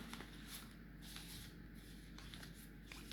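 Soft, steady riffling of playing cards being shuffled, a continuous papery flutter with faint repeated bursts, close and quiet.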